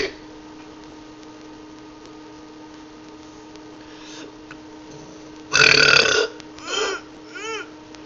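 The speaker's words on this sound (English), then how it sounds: "make a longer burping video" One loud, raspy burp bursts out after a long quiet stretch of room hum, followed by two shorter, weaker croaky burps in quick succession, close to the microphone.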